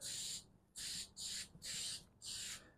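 Five short bursts of aerosol spray paint hiss onto a 1963 Ford Falcon grille in quick succession, each about half a second, close and fairly loud with brief gaps between.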